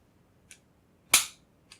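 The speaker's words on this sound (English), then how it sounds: "you put your pin in until you hear a little click" A sharp metallic click of a pin seating in a Smith & Wesson Model 39 pistol, flanked by two faint softer ticks, in an otherwise quiet setting.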